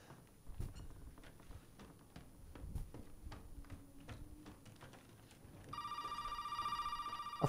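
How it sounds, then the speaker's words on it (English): A telephone rings in a tense Resident Evil 7 horror game scene, a sharp electronic ring starting near the end after quiet footsteps and faint shuffling in a hushed room. "A phone call."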